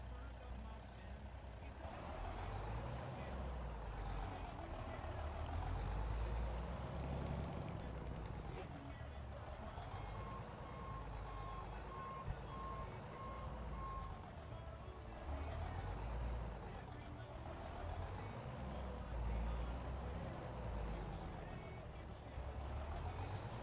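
Western Star truck in a video game, its engine droning with air-brake hiss and reversing beeps, all faint and continuous beneath a voice talking.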